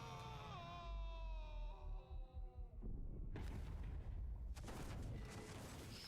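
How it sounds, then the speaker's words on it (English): Tank self-destructing in a big explosion in a Red vs Blue animation, a deep rumbling boom that bursts in loudly midway and rolls on with noisy crackle, following a stretch of sliding tones. "cause the tank to self-destruct in a glorious explosion"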